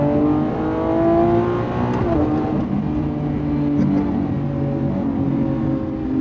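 A Lamborghini V12 engine revs loudly and close, its harmonic roar rising and easing through gear changes while driving in Monaco traffic, with no talk over it.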